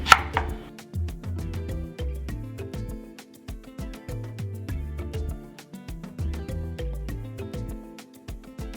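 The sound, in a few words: knife dicing onion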